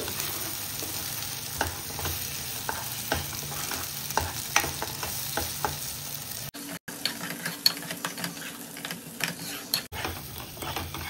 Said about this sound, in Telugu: ఇది ఆయిల్లో బాగా ఫ్రై అవ్వాలి.